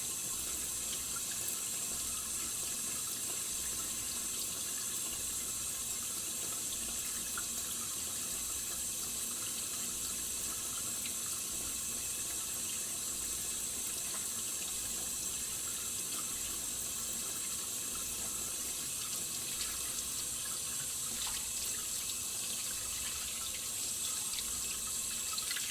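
Water running steadily from a faucet into a sink while hands are rinsed after soaping, a constant close hiss and splash with no speech.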